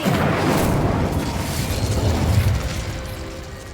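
Incendio fire spell cast in Hogwarts Legacy: a loud burst of roaring, crackling noise with deep rumble that swells for a couple of seconds, then gradually fades, with no talking.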